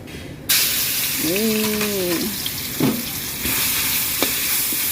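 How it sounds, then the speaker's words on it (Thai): Pork belly stir-fried in a pan with a pounded garlic, coriander root and pepper paste, sizzling steadily and loud throughout, with scraping stirs and a brief voice over the frying. "เราจะเอาหมูสามชั้นคั่วกับ สามเกลือของเรานะคะ"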